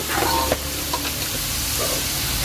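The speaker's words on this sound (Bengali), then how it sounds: "নাড়িয়ে চালিয়ে নিলাম" Bottle gourd curry stirred in a pan in a village kitchen, a soft sizzle with a few scraping strokes of the spoon against the pan, close and fairly quiet, with no talking.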